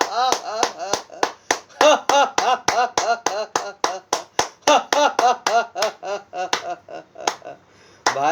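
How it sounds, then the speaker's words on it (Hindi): A group claps in a steady, quick rhythm during a yoga and laughter session, the sharp hand claps coming close together with laughing voices between and over them, then trailing off near the end. "ताली बजाकर"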